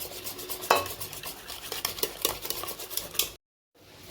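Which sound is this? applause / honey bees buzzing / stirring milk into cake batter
stirring milk into cake batter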